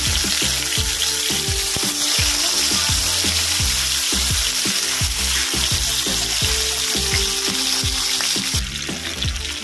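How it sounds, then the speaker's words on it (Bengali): Pomfret fish pieces frying in hot oil in a home kitchen, a loud continuous close sizzle with rapid crackling pops throughout, heard alone without talk. "আর তেলটা গরম হয়ে গেছে, এবার মাছগুলো দিয়ে দেবো।"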